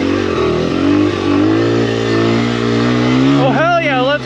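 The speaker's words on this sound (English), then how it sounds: "Oh hell yeah, let's go, XR. This thing's a champ. Go farm bike." Honda XR farm dirt bike climbing a steep uphill enduro trail, its single-cylinder engine revving hard and close throughout, pitch wavering and rising near the end; excited voices shout over it.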